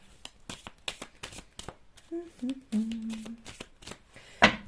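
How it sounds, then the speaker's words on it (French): Tarot cards shuffled by hand, a run of quick riffling bursts up close, joined partway through by a soft voice and ending on a sharp card snap. "Je remélange encore un peu."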